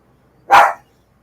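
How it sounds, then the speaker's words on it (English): A dog gives one short, sharp bark, close and loud, with silence before and after. "That dog, that's not even making my pug bark."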